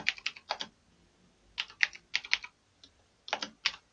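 Short bursts of quick keystrokes on a computer keyboard, clicking in small clusters separated by brief pauses, quiet and close with no voices.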